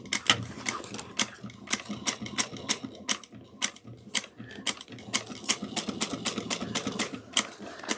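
A sewing machine back-stitches a foam-padded crossbody bag, its needle giving a fast, steady run of sharp clicking strokes with brief pauses, close and fairly loud.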